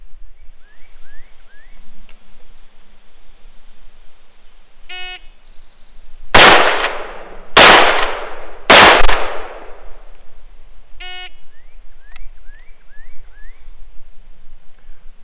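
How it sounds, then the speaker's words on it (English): A Marlin 1894 lever-action rifle fires three loud, close shots a little over a second apart on an outdoor tactical carbine course, with quiet insect and bird sounds before and after. "on signal, comes up, and I fire out 3 shots from here."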